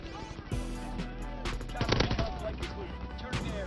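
Gunfire from Call of Duty WW2 with bursts of rapid shots and heavier booms, fairly loud, mixed with game effects and a voice speaking over the action.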